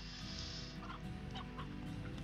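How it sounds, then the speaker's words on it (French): Soft, repeated clucking of chickens in the video game Slime Rancher over a constant low hum and steady background drone, the clucks faint and scattered. "regardez le nombre de poules qu'il y a"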